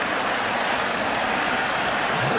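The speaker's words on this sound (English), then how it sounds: "But listen to this crowd. They are excited." Excited crowd at an Illinois State Redbirds vs. Iowa Hawkeyes college football stadium game, a loud, continuous wash of cheering and applause roaring steadily throughout, with no clear voices.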